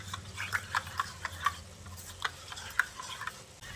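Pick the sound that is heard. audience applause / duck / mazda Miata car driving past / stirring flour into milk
stirring flour into milk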